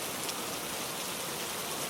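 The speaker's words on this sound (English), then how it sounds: "the patient tapping of drops on the steps, to the small runnel that finds the gutter" Steady rain falls on steps and drips into a gutter, an even, dense patter of drops that holds at a constant moderate level with no voices.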